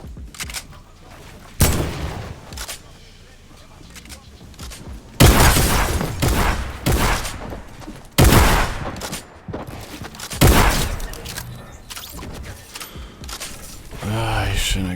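Bursts of rapid video game gunfire crack out in several loud volleys, some long and sustained, with quieter stretches between and voices talking over the shooting.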